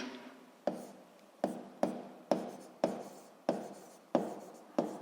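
Pen or chalk writing out a physics equation in a quiet room, a steady series of about nine sharp scratchy strokes, each starting with a crisp attack and trailing off, close and clear.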